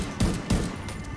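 Gunfire in The Division 2, two sharp shots at the red pipe spots about a third of a second apart, set against a steady background hum.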